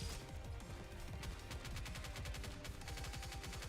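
Sustained rapid gunfire from the mobile game Nikke rattles on without pause, a dense string of evenly spaced shots at steady loudness.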